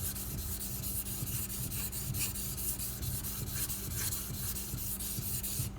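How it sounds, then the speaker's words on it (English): A Ganzo knife held flat on a sharpening stone is rubbed back and forth during convex resharpening, making a continuous, close, rhythmic rasping scrape with no talk over it. "I'm going to lay the knife completely flat on the stone, and I'm just going to start going back and forth."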